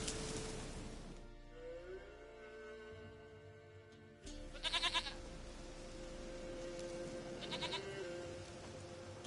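A goat in The Witcher 3 bleats in a few short, wavering cries over a steady game music bed, with the calls rising out of the background near the middle and again toward the end.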